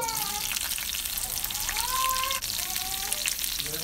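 Cashews and chopped green chillies fry in hot oil with cumin seeds in a pan, tempering for quinoa pongal, giving a continuous close crackling sizzle with small pops throughout.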